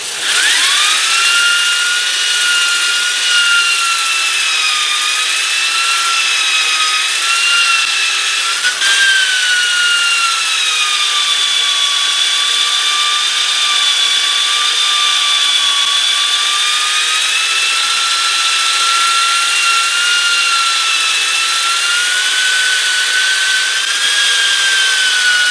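A wood lathe turns a dinner plate at about 800 rpm, with a tool shaving the wood in a steady, loud, continuous high whine and rasp. The pitch wavers slightly as the cut changes, and nobody speaks.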